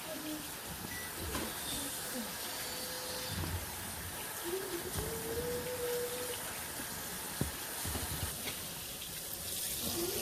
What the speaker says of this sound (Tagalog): Unang gagawin natin ay hugasan muna natin yung karne.